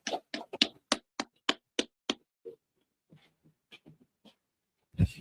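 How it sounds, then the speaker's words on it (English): A group claps in unison at a military gathering, about eight sharp, evenly spaced claps in a brisk steady rhythm, followed by scattered softer taps and one final loud burst. "Clap it up."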